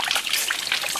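Close, bright trickle of clean water flowing down from a mountain, a continuous bubbling splash heard alone.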